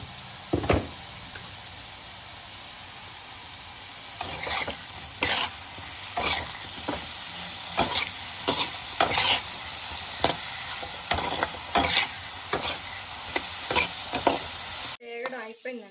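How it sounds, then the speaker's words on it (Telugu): Brinjal pieces fry with salt and turmeric in a pan, giving a steady sizzle throughout, broken by repeated scraping stirs and clanks of the spatula. "కొంచెం ఉప్పు, కొంచెం పసుపు వేసుకొని వేపుకోవాలి."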